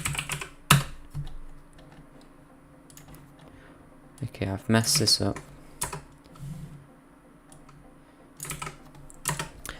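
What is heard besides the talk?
typing on a computer keyboard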